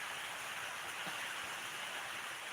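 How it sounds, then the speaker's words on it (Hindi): Heavy rain pours in a constant soft wash, faint and even from start to finish, with no one talking. "हमारे यहाँ भी बारिश बहुत तेज हो रही है।"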